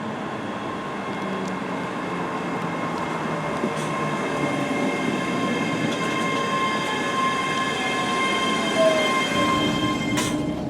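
ScotRail train pulling into Glasgow Queen Street station, a steady rumble of rolling wheels and carriages with faint squeals, continuous and close throughout with a brief brighter screech near the end.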